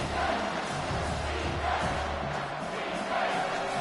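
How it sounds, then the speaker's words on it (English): Home crowd at a Clemson college football game roars steadily through a third-down defensive play, a dense sustained wall of cheering and noise with faint commentary-like voices mixed in. "Here comes this home crowd as the defense tries to get off the field on third down."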